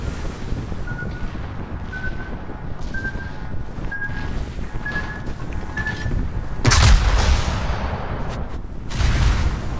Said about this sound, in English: Concentrez le tir sur le navire ennemi.